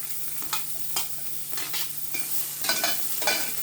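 Scallion and ginger sizzle in a small amount of oil, a constant frying hiss broken by several scraping stirs, heard alone without speech.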